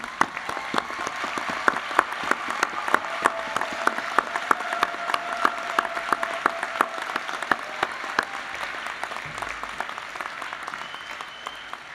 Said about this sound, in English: give them the applause they deserve